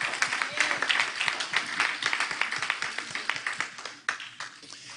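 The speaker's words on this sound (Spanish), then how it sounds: "escuche el aplauso" A congregation applauds during worship. The clapping is rhythmic and fairly close, with distinct sharp claps standing out over a crowd that thins toward the end, and voices mix in.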